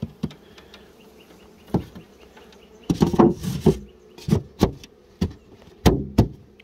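Honeybees near a hive during beekeeping work, heard as scattered close buzzes that pass and fade, with a louder cluster of overlapping buzzing midway and quieter gaps between.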